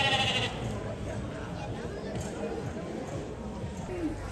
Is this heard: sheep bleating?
yes